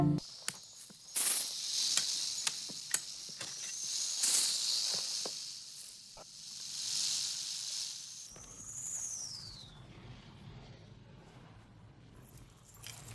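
A snake hisses in the animated film Kirikou, with long, loud, breathy hisses amid jangling and rattling effects, then a drawn-out falling whistle-like tone before a quieter rumbling stretch.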